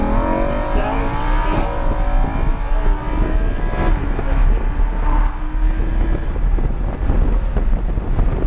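Lamborghini Huracan at full throttle on a track, the engine note climbing steadily under loud wind buffeting from the moving car, with no speech.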